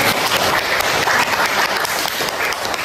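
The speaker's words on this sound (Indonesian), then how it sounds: "Boleh tepuk tangan untuk kegiatan." Classroom applause as a class of children claps after a lesson activity. Dense, continuous clapping fills the room at a steady level for a few seconds.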